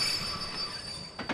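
A ghost train in Kingdom Hearts II, heard as a continuous metallic wheel squeal and rolling rail rumble that holds steady throughout, with a brief swell of noise near the end.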